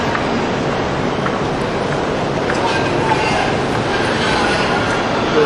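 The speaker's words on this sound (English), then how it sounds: "That's the sky train track." Bangkok Skytrain running on its elevated track, a loud continuous rumble with faint wheel squeal and rail clatter, steady throughout the whole stretch.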